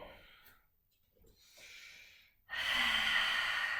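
Breathing during a beginners' yoga flow: a soft breath in, then a strong, sustained exhale pushed out near the microphone, steady and airy, with no talking over it.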